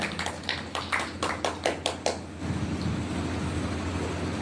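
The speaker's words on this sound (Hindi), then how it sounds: "एक बार जोरदार तालियां आप लोग उनके सम्मान में बजाएं।" An audience at a kavi sammelan poetry gathering claps in honour of a trust founder, starting with a run of distinct, evenly spaced claps that blur into a softer, continuous wash of applause.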